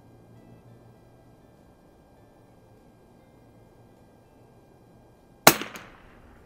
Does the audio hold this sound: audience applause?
no